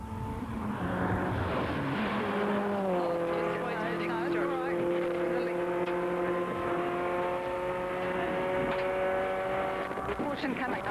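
A lesser-powered Suzuki Ignis rally car, driven hard on a New Zealand tarmac rally stage, revs loudly close by, its engine note climbing and holding high through gear changes while a voice talks over it.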